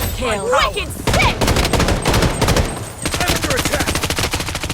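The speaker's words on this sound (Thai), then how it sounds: "เหมือนมีสไนยิงผมอะข้างบนปะ" Loud rapid gunfire from the Blood Strike shooter game, with bursts of automatic shots rattling continuously at close range and barely pausing.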